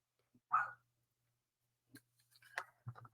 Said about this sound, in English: My dog wants to make noise.